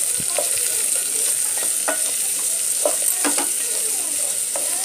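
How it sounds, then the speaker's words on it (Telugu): Onions and green chillies fry in a pan for Telugu tomato rice, a steady close sizzle with scattered crackles and a few light stirring scrapes throughout, no voices. "ఆనియన్స్, పచ్చిమిరపకాయ ముక్కలు, ఉల్లిపాయ ముక్కలు కూడా వేసేసుకుందాం. ఫ్రై చేసుకుందాం."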